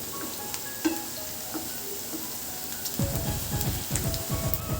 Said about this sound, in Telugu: ఎక్కువగా ఫ్రై చేయాల్సిన అవసరం లేదు జస్ట్ అలా ఫ్రై చేసుకుంటే సరిపోతుంది